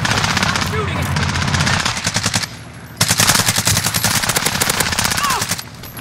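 Video game gunfire from a Grau assault rifle and P90, with rapid sustained automatic bursts close and loud, a brief lull near the middle before heavy firing resumes; a voice speaks over it.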